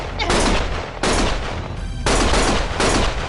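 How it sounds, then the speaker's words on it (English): Loud bursts of automatic gunfire from the video game Lost Judgment, three sustained volleys separated by brief gaps, near and harsh. "Stop shooting!"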